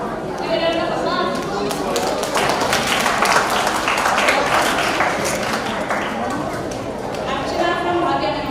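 An audience at a Brahmo conference session applauds in a steady rattle of clapping that swells slightly in the middle, with chatter and voices running underneath throughout.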